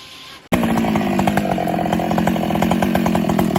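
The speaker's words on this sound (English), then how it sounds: "The roar of the chainsaw cuts through the air" A chainsaw cuts into a tree trunk while removing a stump, its engine bursting to a loud, steady close-up roar after a brief quieter idle, with the rhythmic chatter of the chain biting the wood.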